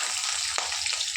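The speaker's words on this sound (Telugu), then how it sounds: "అదో ఇంత చింతపండు పులుసు పోయాలి దాంట్లో," Tamarind water poured into a hot tempering of dried red chillies in oil, heard as a steady, close, loud sizzle, with one brief sharper splash midway and no voices.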